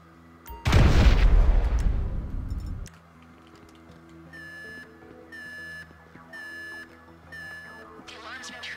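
A sudden loud boom from a planted charge in GTA 5 bursts out and rumbles for about two seconds, followed by a quieter electronic alarm beeping repeatedly in a steady pattern.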